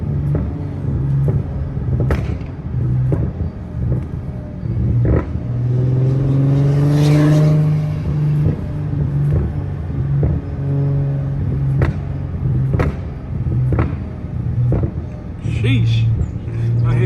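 A custom car idling with a rumbling exhaust, letting out a series of sharp irregular pops and crackles over the steady engine drone at an outdoor car meet.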